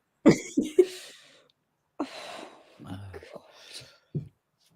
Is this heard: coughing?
yes